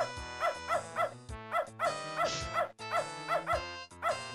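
A dog in the point-and-click game Beneath a Steel Sky barks in a steady series of sharp, evenly spaced yaps, close and fairly loud, over a continuous game music bed.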